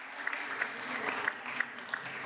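An audience at an award ceremony for a national school prize in Rome applauds softly and continuously, with a few sharper individual claps standing out from the wash.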